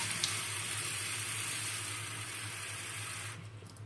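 Hot tap water pours from a kitchen faucet in a steady, close, even rush with no break until it shifts slightly at the very end; no one talks.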